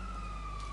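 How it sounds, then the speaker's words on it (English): A GTA V fire engine siren, a brief steady wailing tone held loud and close for under a second with engine rumble beneath. "Fire engine."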